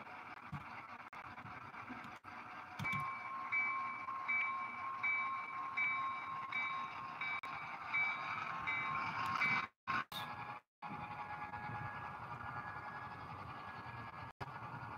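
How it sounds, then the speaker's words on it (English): A DCC model Pacific steam locomotive runs on a model train layout, giving a steady close mechanical hum with repeating electronic sound-decoder tones and a couple of sharp clicks and dropouts. "So we will now hook up this locomotive and run it on the layout."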